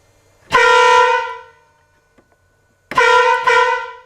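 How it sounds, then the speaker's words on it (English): A loud, brassy air horn on a 1986 Jeep CJ7 rock crawler, mounted under the hood, blasts once for about a second, then after a pause gives two more short blasts close by. "Here the air horns are mounted right on the driver's side, underneath the hood."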